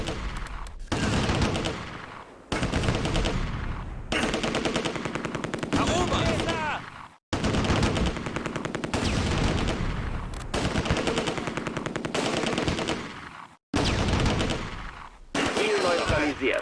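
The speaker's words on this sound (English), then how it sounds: "there's a fucking 50 cal right there! Jetzt da! That's what that heavy fucking booming sound is" Heavy .50 cal machine gun in the Close Combat: A Bridge Too Far war game fires long, loud, continuous booming bursts with brief pauses between them, layered with other gunfire and some voice activity.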